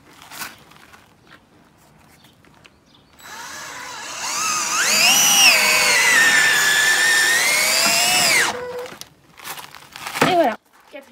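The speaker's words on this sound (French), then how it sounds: "Et maintenant, je vais visser." A power drill drives screws into pallet wood, whining loudly and continuously for about five seconds, its pitch rising and then dipping before it stops, with quieter handling noises before and after.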